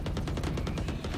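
Rapid automatic gunfire in the tactical shooter Valorant, a fast, evenly spaced string of about a dozen loud shots with no talk.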